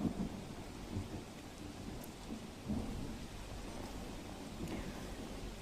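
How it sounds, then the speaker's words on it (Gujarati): Heavy, steady rain falling during a Saurashtra downpour near Rajkot, with low rumbles of thunder rolling under a dense wash of noise across the whole stretch, no voices. "સતત વરસાદ સૌરાષ્ટ્રમાં પણ વરસી રહ્યો છે"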